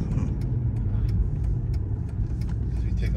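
A Mercedes CLK63 engine drones low and steady from inside the moving car, filling the stretch with a continuous rumble and no clear rev spike.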